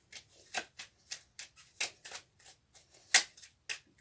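Tarot cards being shuffled and drawn by hand, a series of close, crisp riffling flicks and taps in an irregular rhythm with short pauses between them.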